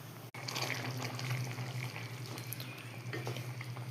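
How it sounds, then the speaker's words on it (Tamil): A pot of prawn curry bubbles and simmers steadily at close range, a continuous soft boiling hiss with small pops throughout, no voices. "இது நல்லா கொதிக்கட்டும் ஒரு பத்து நிமிஷம் கொதிக்கட்டும்"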